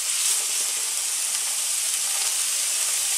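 Onions with garlic-ginger paste frying in a pan over medium heat, a loud continuous close-up sizzle and hiss with no talking.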